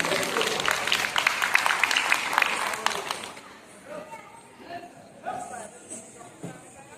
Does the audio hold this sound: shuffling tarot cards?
no